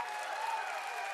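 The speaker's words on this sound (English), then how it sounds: "Can we now get a huge round of applause?" A brief, steady wash of applause from a conference audience at XO19, fairly faint and even for about a second.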